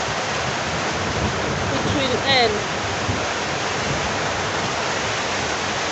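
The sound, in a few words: heavy rain water flowing into a house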